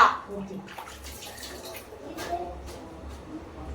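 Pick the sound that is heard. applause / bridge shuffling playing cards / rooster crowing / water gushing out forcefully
water gushing out forcefully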